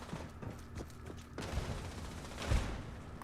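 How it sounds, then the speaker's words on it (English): Gunfire in a shootout in the video game Fallout 76, scattered shots and a few heavier bursts sounding at moderate distance over a background hum, with no talking. "There's a lot of shooting going on up here."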